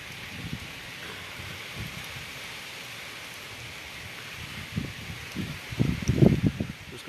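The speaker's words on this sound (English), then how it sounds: "I hear the trees across the street got a little bit of roar to them." Wind gusts roar through trees across a street with rain falling, a steady wet hiss that swells into stronger rushing gusts near the end, heard from a distance outdoors.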